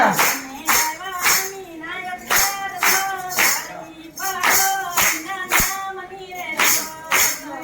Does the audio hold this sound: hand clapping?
yes